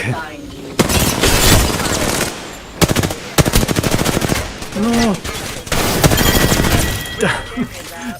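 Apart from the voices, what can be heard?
gunfire in a video game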